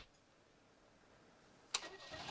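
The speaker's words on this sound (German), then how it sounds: "Anlassen und den Hebel nach vorne drücken" A 1968 DAF 55 car engine cranks and catches with a sharp start, then settles into a steady mid-pitched idle after a quiet stretch, heard close and alone.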